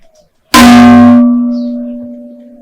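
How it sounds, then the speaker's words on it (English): A gong is struck once, hard and close, in a folk-tale scene. It rings out with a bright metallic clang and then hums, slowly fading over about two seconds. "Give me gong"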